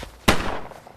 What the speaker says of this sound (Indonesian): secara mengejutkan si Bob ini menembak dua polisi itu